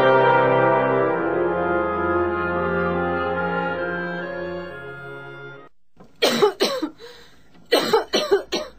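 A long sustained tone fades out, then a woman coughs in two harsh bursts of several coughs each, close and loud.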